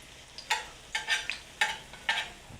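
Corn fritter batter frying in a pan, with five or six short bursts of sizzle and scraping as it is stirred and turned, close up, with no talking.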